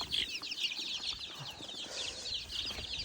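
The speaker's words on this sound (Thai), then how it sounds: "เห็นว่าเป็นไก่ตีกัน" Chickens scuffling and clucking at close range outside by a rice field, a steady flurry of bright, scratchy squawks and flapping that runs unbroken throughout.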